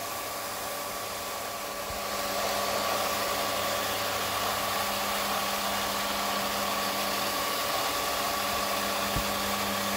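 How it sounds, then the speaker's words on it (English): A Clarke SPE1200SS electric water pump runs with a steady, loud whirring hum that steps up slightly after a couple of seconds and then holds constant, with no one talking. "The pump is rated for continuous use, even dry."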